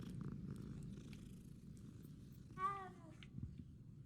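A cat purrs softly and close in the Hogwarts Legacy video game, a low continuous rumble, with a brief high meow-like call rising out of it near the middle.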